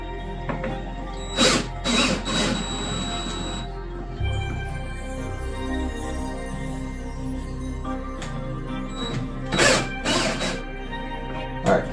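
Car wheel bolts are loosened with a power tool, giving two pairs of short, sharp mechanical bursts separated by a quieter stretch of low background noise.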